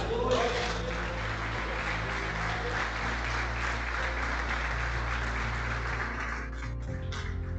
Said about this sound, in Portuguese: Aplaude o Senhor por isso.